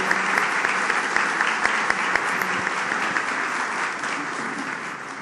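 An audience at a Brazilian literary talk event bursts into steady applause, dense clapping from a large indoor crowd that fills the whole clip and slowly fades.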